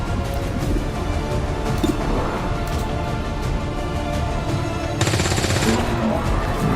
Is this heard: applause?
no